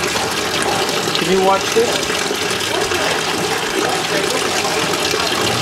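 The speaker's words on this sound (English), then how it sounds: "It takes about 4 minutes to fill 60 liters in there." Water rushes steadily into a 60-liter tank at a dacha, a continuous broadband gush with wash water also being filled, while a voice speaks briefly near the start.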